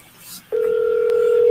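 A phone call is placed: a brief soft rustle, then a loud, steady telephone tone starts abruptly and holds at even pitch to the end.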